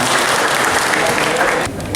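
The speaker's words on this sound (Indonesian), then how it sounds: "Berikan tepuk tangan yang sesungguhnya." Loud, dense applause from an audience at a meeting with the Malang city leadership, sustained clapping that drops off sharply near the end, with a voice faintly underneath.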